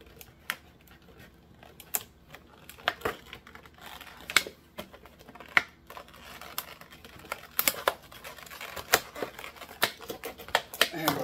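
Thermometer packaging is cut open with scissors or a blade, giving irregular sharp snips, clicks and rustles up close at moderate volume, with a few soft background noises between the cuts.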